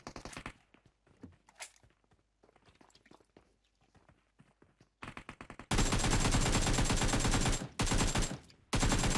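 PUBG Mobile gunfire: scattered sharp distant shots and soft footsteps at first, then sustained loud, dense bursts of automatic fire close up, with brief pauses between them.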